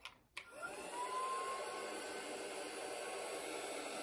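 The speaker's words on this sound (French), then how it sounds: "avec mon gun de chez Craftelier. Je ne fais pas très fort pour éviter de faire trop chauffer la plaque." A Craftelier heat gun clicks on after a short pause and blows a steady, even whoosh of hot air at low power over a craft plate, with nothing else heard.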